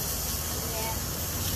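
A garden hose sprays water hard in a steady, loud hiss that lasts the whole short moment, close by and unbroken.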